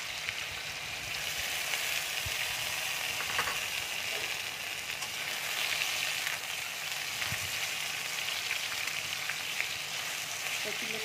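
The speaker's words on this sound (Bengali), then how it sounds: "এবার আমি কচুরলতিটা দিয়ে দিচ্ছি।" Taro stolons (kochur loti) go into a pan where black cumin is already frying, giving a continuous hissing sizzle with occasional faint scrapes and clinks of stirring.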